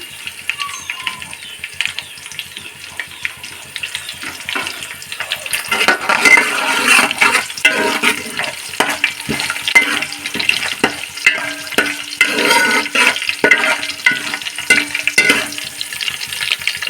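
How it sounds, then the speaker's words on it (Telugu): Curry leaves dropped into hot oil in a pan: quiet at first, then a sudden burst of crackling, spitting sizzle with sharp pops that keeps going loudly to the end. "ఇప్పుడు కరివేపాకు వేసుకుందాం"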